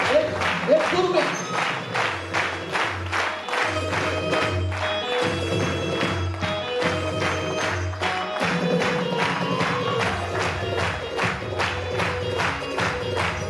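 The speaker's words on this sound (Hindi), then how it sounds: "जोरदार तालियां" Loud applause from a seminar audience clapping for themselves, dense rapid claps running throughout, with a voice speaking briefly over the clapping.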